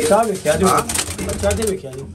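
A female pigeon coos in short repeated throaty bursts, close and clear, with a voice talking over and around the calls.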